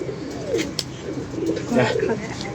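Pigeons coo close by in low, throaty murmurs while someone talks over them.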